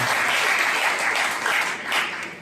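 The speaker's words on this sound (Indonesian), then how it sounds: "Tepuk tangan lah buat Bung Rocky dan bapak-bapak yang di depan." Dense audience applause at a student dialogue event in Yogyakarta, a loud steady roar of many clapping hands that fills the whole moment without pause.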